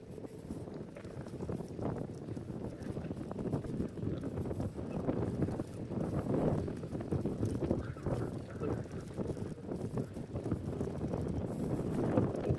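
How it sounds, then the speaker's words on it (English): OOTD T10 electric scooter riding along a path outdoors, a continuous rough rumble of tires and rattling with steady wind buffeting the microphone, no voices. "riding the scooter is so much fun"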